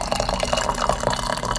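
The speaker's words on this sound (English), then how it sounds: "Our water has been boiled. Let's go ahead and pour it in, making our Tickle Me tea right here." Boiled water poured into a vessel to make tea, a continuous close liquid gurgle with small splashing bubbles throughout, no voices.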